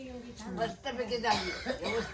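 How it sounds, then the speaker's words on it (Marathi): An elderly woman coughs several times in quick bursts, close by, amid nearby talking. "आमच्या सुंदर आजीला बराचसा खोकला येतोय"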